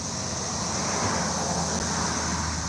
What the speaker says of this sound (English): That's those freaking cicadas.